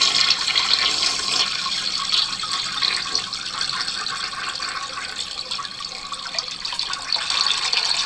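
A video game toilet flushes with a loud, continuous rush of water that pours steadily for several seconds without a break, bright and splashy, with no talking over it.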